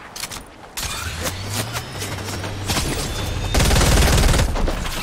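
Rapid bursts of gunfire in the Fortnite video game, volleys of shots crackling one after another, growing denser and louder toward the end amid a low engine-like hum.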